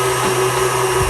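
An electric mixer blending butter, cream cheese and milk for a chocolate pumpkin cake batter, a loud steady motor whine held close throughout the short moment with no talk.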